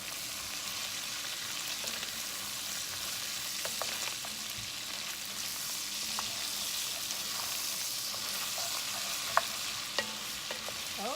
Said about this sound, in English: I'm just gonna start scraping it off, because that's where all the flavor is.